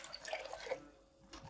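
Water is poured into a spiced shami kabab mixture during home cooking, a faint, brief trickle and drip of liquid that fades into near quiet, then a short soft splash at the end.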